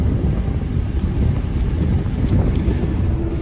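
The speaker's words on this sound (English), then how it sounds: "I understand the truck's probably loud" Steady low rumble and roar of road noise inside a moving truck, loud and continuous with wind buffeting.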